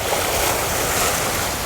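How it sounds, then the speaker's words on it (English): Surf washing over a rocky shore on Bonaire, a steady loud broadband rush of water, close and continuous, with some wind buffeting the microphone. "She'll let the water wash by and come on out."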